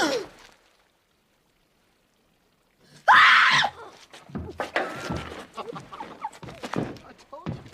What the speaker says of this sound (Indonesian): Wanita itu menyadari kehadiran Jean lalu berteriak.